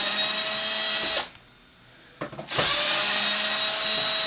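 A power drill driver spins out screws from an Xbox 360 console case, a steady loud whir that stops briefly, gives a couple of short bursts, then resumes running continuously.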